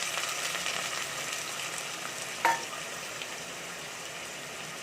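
Two thinly sliced onions sizzling in a hot pan for prawn rice, a steady soft hiss of frying with one brief louder scrape or clink midway, no voices.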